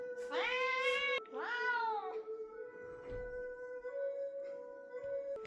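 A young cat meows and yowls in two long, loud drawn-out cries close by, followed by quieter calls over a steady background hum.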